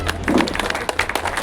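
Brief burst of audience clapping at a Maruti Mangal Parivar blanket-distribution gathering in a temple courtyard in a Gumla district village, dense, close hand claps with voices mixed in.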